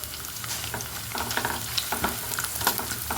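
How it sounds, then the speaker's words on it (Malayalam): Grated coconut fries in a hot pan until brown, with steady sizzling and crackling and occasional scraping stir sounds over a constant frying hiss. "ആദ്യം തന്നെ നമുക്ക് നാളികേരം വറുത്തെടുക്കാം കേട്ടോ"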